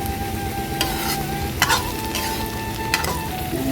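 Soybeans stir-frying in a pan, a loud continuous sizzle and crackle with the scrape of a spatula coming through every second or so.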